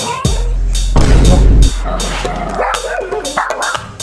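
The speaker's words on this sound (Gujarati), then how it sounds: "કૂતરો" A dog barks and yips several times in short bursts, close and loud, with people talking over and between the barks.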